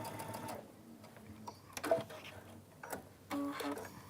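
A sewing machine stitches closed the end of a fabric handle tube for a handbag, short bursts of rapid whirring stitches separated by pauses, fairly quiet.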